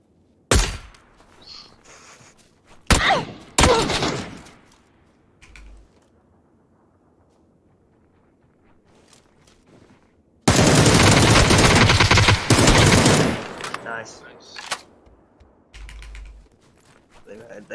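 Gunfire in the PUBG video game: scattered sharp shots early on, then a loud sustained burst of rapid automatic fire lasting a few seconds, followed by a few quieter pops and clicks.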